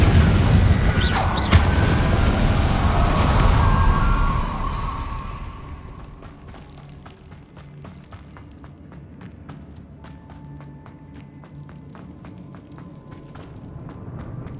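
A blasting Confringo spell in the Hogwarts Legacy video game booms loudly over rushing game noise, then fades to a quieter backdrop of footsteps and light ticking effects.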